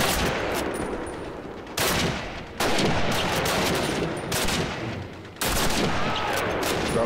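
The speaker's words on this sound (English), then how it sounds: "being shot at, being shot at" Dense bursts of gunfire in a Call of Duty firefight, with rapid automatic and machine-gun shots packed close together. Loud, continuous volleys shift abruptly several times across the stretch.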